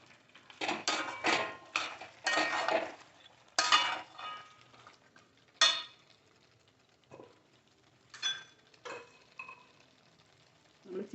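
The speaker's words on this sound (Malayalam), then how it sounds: "നല്ലോണം കൂട്ടി ഇളക്കാം." A spoon stirs chicken roast in a pan, scraping and knocking against the metal in irregular bursts with short pauses between them. A faint sizzle sits underneath, and no voice is heard.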